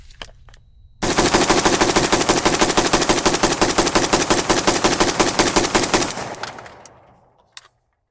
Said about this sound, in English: This is a very smooth shooting gun.